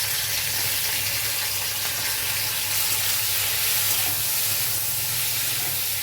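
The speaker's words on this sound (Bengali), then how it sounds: "হালকা করে মাছগুলো ভেজে নিতে হবে।" Small prawns fry in mustard oil in a wok, giving a steady, close crackling sizzle with faint spattering that holds evenly throughout, without any voices.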